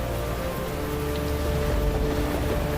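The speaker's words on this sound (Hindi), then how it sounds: "कुछ ही देर में नगर में भयंकर वर्षा शुरू हो गई।" Heavy rain falling on a town in an animated scene, a dense steady hiss of drops pattering on surfaces, with a faint low rumble beneath and no voices.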